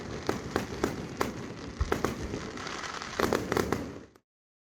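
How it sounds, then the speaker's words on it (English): Fireworks display at Hamilton Island in the Whitsundays, heard as a distant series of pops and crackling bursts over a hissing background, irregular and moderately faint before cutting to silence. "you also get to watch some pretty impressive fireworks displays that are often put on"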